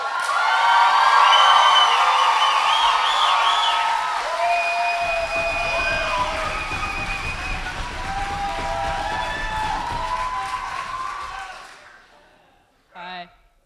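A poetry slam audience at a Queensland final cheers, whoops and applauds loudly to welcome a performer, the roar sustained for around ten seconds before fading, with a voice heard briefly afterward.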